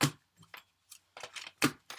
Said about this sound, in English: So let's get one more shuffle here